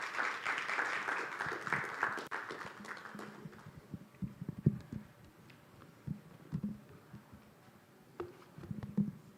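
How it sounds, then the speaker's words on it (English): An audience at a Mastercard Foundation EdTech Fellowship demo day bursts into applause for a couple of seconds, then the clapping thins out into scattered claps and faint room noise. "Let's give him a round of applause."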